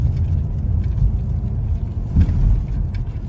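Traffic crawls along a road heading to an SM mall, with a steady low rumble of car engines and passing vehicles nearby.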